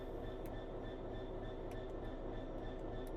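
Class 66 diesel locomotive automatic brake releasing in a train simulator game: a steady, even rush of air and low cab rumble holds throughout, with a few faint ticks on top, alone with no talk.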